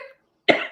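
A single sharp, loud cough bursts out after a brief quiet, following a faint fragment of voice at the start.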